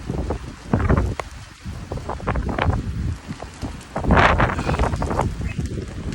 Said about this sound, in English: Yeah, it's just turning a bit stormy out here.